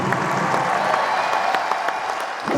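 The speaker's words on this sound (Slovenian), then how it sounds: "dajmo jim še enkrat zaploskati" Audience in a sports arena applauding steadily with dense, sustained clapping and crowd noise, loud and continuous throughout.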